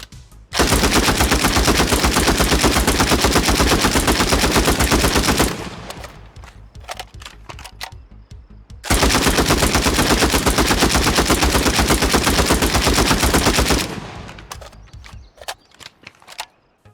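Bursts of automatic fire from the FBI Fighting Rifle, a BAR, in State of Decay 2: two long, loud sustained volleys of rapid shots, each followed by a few seconds of quieter clatter and scattered echoing reports.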